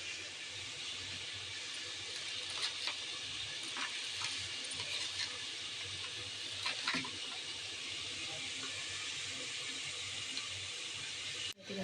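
Meat sautéing in a pan for biryani gives off a faint, steady sizzling hiss, with a few soft stirring scrapes and a sharper clack near the end.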